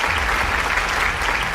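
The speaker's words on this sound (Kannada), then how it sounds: "ಜೋರಾಗಿರುವಂಥ ಚಪ್ಪಾಳೆ." Loud, dense applause from a studio audience at a singing competition semi-final, a continuous even roar of clapping with no break.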